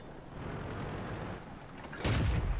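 A tank destroyer's main gun fires at an enemy Hellcat in World of Tanks, a single heavy boom that lands near the end of the clip over a steady rumble of engine and battle noise.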